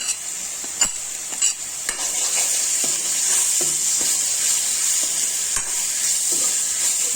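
Garlic-ginger paste and chili powder fry with pork in a pan for a bamboo shoot and pork dish. A constant sizzle continues throughout, with a few sharp utensil clinks and scrapes from stirring.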